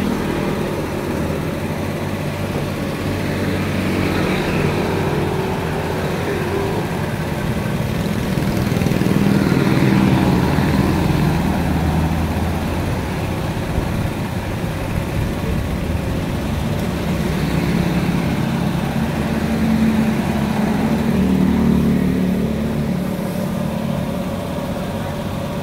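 Motorcycles and cars pass along a quiet main road on a hot midday, a continuous engine drone that swells and fades as vehicles go by, with a voice talking over it.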